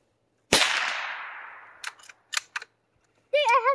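A single sharp crack from a Savage Mark II .22 rifle fired at a target outdoors, ringing off with a long fading tail, followed by a few short clicks and a brief voice.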